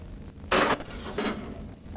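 Aboard a Thames sailing barge, a pan of beef slides into the ship's oven with a sharp metallic clank and a scrape, then a quieter second knock amid low background rumble.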